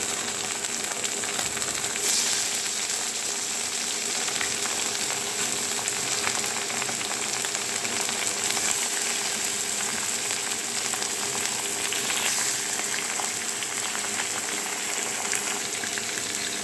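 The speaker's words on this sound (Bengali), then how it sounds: "দেখো চিকেন দিলাম, এবার চিকেনটা নাড়ছি। চিকেনটা ফ্রাই করি" Chicken pieces frying with onions in a pan: an even, close, unbroken sizzle that holds steady throughout, with faint occasional stirring movements and no voices.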